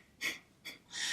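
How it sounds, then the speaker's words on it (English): Three quick, forceful nasal exhales in pranayama breathwork, two short bursts followed by a longer push, close and clear with no talking. "And we exhale out of the nose."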